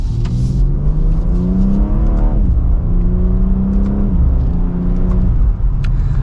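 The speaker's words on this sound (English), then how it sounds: "Let's give it another acceleration here." A 2024 BMW X3 M Competition accelerating hard from the cabin, its engine note climbing through gears with loud, steady revving that drops briefly at each shift, with no talking.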